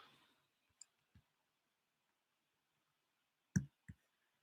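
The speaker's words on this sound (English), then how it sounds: "I can hear them rustling around" Faint handling noise from a caller on a phone line who picked up by accident: a few sparse, separate clicks and soft bumps on an otherwise quiet line.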